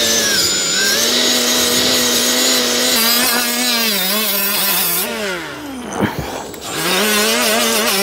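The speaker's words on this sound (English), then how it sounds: "This is a soft plastic brush, so it won't tear into the metal. It'll be just enough to clean the surfaces up." A soft plastic brush scrubs the metal mating surfaces of a throttle body on a leaking intake manifold, making a steady whirring, grinding scrub with a wavering motor-like whine that dips briefly before resuming, close and loud.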